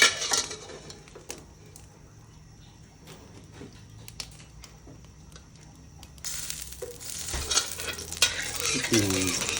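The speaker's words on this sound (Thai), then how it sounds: "น้ำมันที่เหลือก็มาผัดผัก" Vegetables stir-fried in leftover oil in a pan: soft scraping and stirring strokes with a quiet sizzle, growing louder and busier toward the end as the utensil clatters against the pan.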